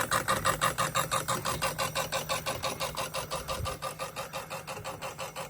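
Wilesco Showman's toy steam engine running on its first test firing outdoors in a backyard, giving a steady, fast rhythmic chuffing and mechanical clatter at close range with no talk.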